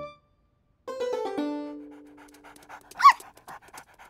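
A cartoon puppy pants in quick rhythmic breaths, close and clear, following a brief burst of bright synthetic tones, with a small squeaky yelp near the end.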